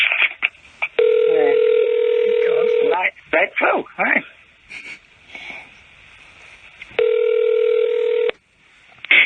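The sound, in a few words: telephone call dialing and ringing the CIA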